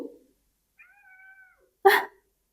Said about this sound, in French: C'est mon chat June qui m'appelle.